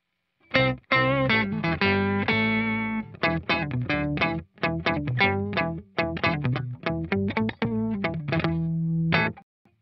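An electric guitar plays a run of chords and single notes through a thick, distorted octave effect from a HeadRush Gigboard that doubles the pitch, with short gaps between phrases.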